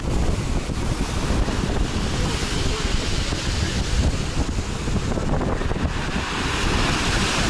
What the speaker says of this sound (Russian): Волны немножко усиливаются.